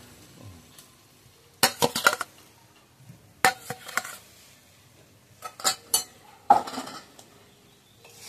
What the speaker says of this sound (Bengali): এবার একসাথে মশলা এবং আলু একসাথে নাড়িয়ে নেব।